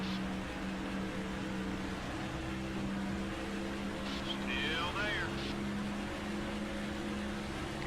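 A race car engine in the video game NASCAR Thunder 2004 drones steadily at high revs around an oval, a constant buzzing hum with someone talking briefly over it.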